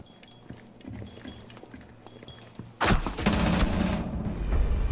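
Rapid gunfire bursts from a Rainbow Six Siege match erupt loud and sustained partway through, after a stretch of quieter game ambience with scattered small clicks and thumps.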